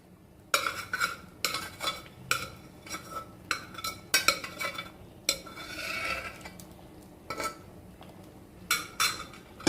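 A spoon stirs pumpkin payasam with sago in a pot, giving irregular scraping strokes and metallic clinks against the pot. The sounds come close and moderately loud, with short pauses between bursts and no talking.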